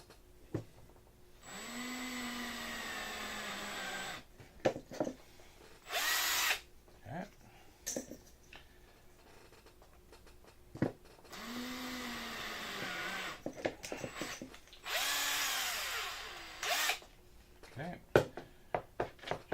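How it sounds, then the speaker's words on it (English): A drill bores holes in the center of a foam-board FT Power Pod, several short bursts of whining motor noise separated by pauses and handling clatter, loud and close. "I'm going to drill these last 2 in the center."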